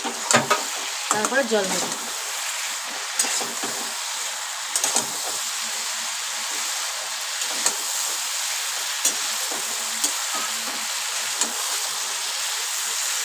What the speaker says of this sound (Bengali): বড়াগুলো দিয়ে দিলাম, এবার কষাতে থাকবো